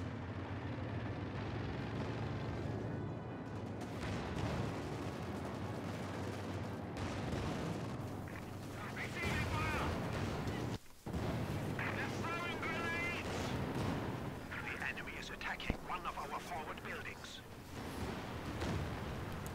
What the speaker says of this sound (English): more artillery falling down on the center fortification buildings